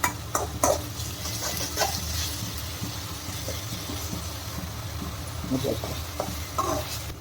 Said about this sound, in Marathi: याला आत्ता मस्त याला पूर्णपणे व्यवस्थित फ्राय होऊ द्यायचं आहे, जोपर्यंत हा ब्राऊन कलर सोडत नाही